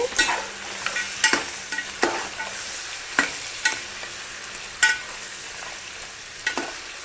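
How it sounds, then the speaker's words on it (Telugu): Tomatoes cooking down toward a gravy in a pan are stirred, giving irregular scraping strokes and clinks over a steady low sizzle, close and clear, with no talking. "ఒకసారి కలుపుకుంటున్నానండి"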